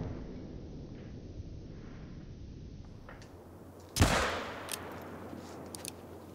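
A single sharp hunting rifle shot in theHunter: Call of the Wild cracks out against a low background hum, followed by a brief fading echo and faint clicks.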